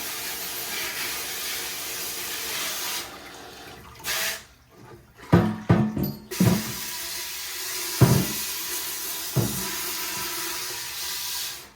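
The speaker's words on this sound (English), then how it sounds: "sometimes I'll set this down and we'll just rinse out with a little bit of pressure" Tap water under pressure rinses out the tank of an MCXL water filter, a hissing spray that stops and starts, with short bursts, splashes and knocks of the container in between.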